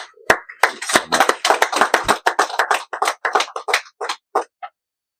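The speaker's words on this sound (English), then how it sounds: "So a round of applause." Small audience at a Navy birthday ceremony aboard the museum destroyer escort USS Slater, giving a brief round of crisp, scattered handclaps that thin out and stop after a few seconds.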